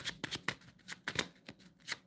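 Tarot cards being shuffled and drawn for a reading make quick, close, soft riffling flicks in an uneven rhythm, with no voice.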